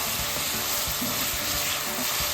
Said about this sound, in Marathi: बटाट्यालाही आपल्याला एक ते दीड मिनटं परतावं लागेल